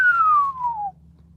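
A person whistles a single descending tone that imitates a cheesy slow-motion sound effect, sliding smoothly downward for about a second over a low background hum.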